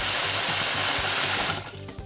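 Milky rinse water from rice pours loudly through a sieve in a steady rushing stream that cuts off abruptly, leaving only a few soft drips and clinks.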